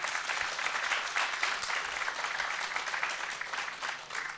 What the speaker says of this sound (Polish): jak państwo troszkę tak zwieńczą tę rundę gromkimi oklaskami dla naszych kandydatów